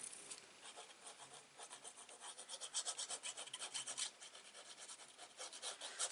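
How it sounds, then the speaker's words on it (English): Paper strips being burnished down onto mini album pages with repeated rubbing strokes, a close, steady scratchy rasp that swells and eases in rhythm, with no talking. "page by page, just burnish them down, and then just burnish it down"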